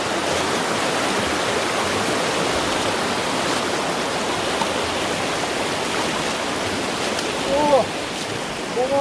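Mountain creek water at Leroy Creek in the Canadian Rockies rushes steadily and loudly close by, a dense unbroken roar of flowing water.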